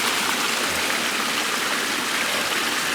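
Water rushes continuously through a built stream channel beside ponds, a steady close, full gush with no voices.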